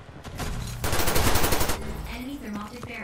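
Rapid automatic gunfire in the Ghost in the Shell video game: a dense, loud burst of shots lasting over a second, then quieter game sounds with some background voice activity.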